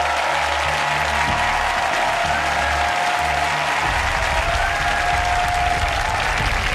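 Spectators at a Guinness World Record flying bar attempt cheer and clap for Barclay, a loud, continuous wall of applause and crowd noise with a low rumbling hum beneath, steady throughout.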